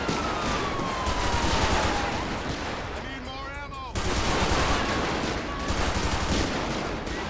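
A GTA 5 LSPDFR police shootout in a video game: dense, continuous bursts of gunfire crackle throughout, with a wailing siren layered in the background and a brief lull in the middle.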